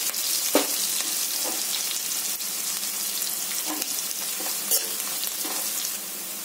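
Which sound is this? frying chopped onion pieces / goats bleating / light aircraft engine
frying chopped onion pieces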